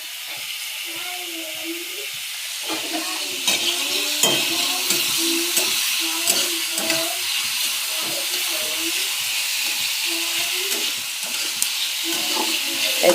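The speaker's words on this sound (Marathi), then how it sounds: "चांगला कांदा गुलाबी लालसर परतला ना" Onion sizzles and hisses steadily in a hot pan while being stirred for vada pav filling, a continuous close frying crackle with scraping stirs and a voice speaking intermittently over it.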